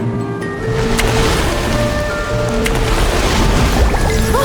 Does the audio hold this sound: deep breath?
no